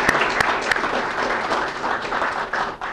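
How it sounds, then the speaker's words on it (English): An audience at an awards induction ceremony bursts into applause for the green certificate recipients, a brief burst of dense clapping from many hands with a few sharp claps standing out, close and steady. "give themselves a round of applause"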